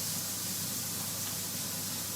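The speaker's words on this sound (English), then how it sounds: "You should start hearing it sizzle." Steady broadband sizzling with a constant hiss of pork searing in a hot pan, continuous and fairly close with no voices.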